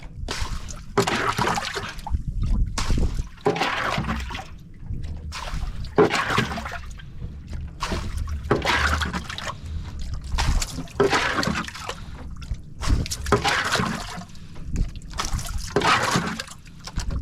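Seawater being bailed by hand out of a small fishing boat, repeated scoop-and-pour splashes in a steady rhythm of about one every second or two, close and fairly loud.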